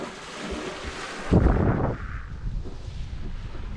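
A sailboat moving along a Norwegian fjord, with steady wind rush and water noise against the hull, a louder gusty burst midway, close and continuous with no talk.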